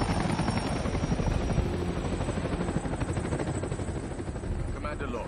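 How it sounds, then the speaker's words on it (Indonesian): Helicopter rotors thump steadily and loud throughout, the dense chopping wash of aircraft flying overhead in an action film scene, with faint sharp clicks near the end. "2 helikopter terbang di atas mereka, bertugas memantau dan memberikan perlindungan dari udara"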